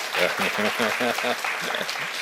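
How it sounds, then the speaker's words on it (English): Steady applause from a crowd at a workshop opening session, with someone speaking over it, clapping continuing evenly throughout. "Professor Chen I Hang, another round of applause, please."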